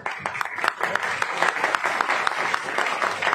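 Audience at a company seminar in Indore claps steadily, dense overlapping hand claps filling the hall without a break, moderately loud and fairly close, with no talk over it.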